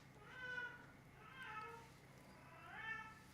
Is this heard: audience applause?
no